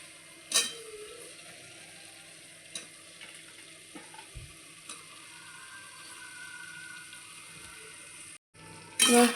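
Potatoes fry in a spiced masala in a pan, a low continuous sizzle broken by occasional clinks and scrapes of stirring, with a louder clatter at the very end.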